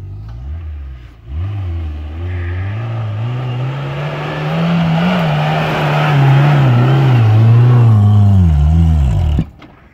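Suzuki Samurai off-roader revving hard in loose sand, a loud close engine climbing and falling in pitch across several strained pulls before cutting off abruptly near the end.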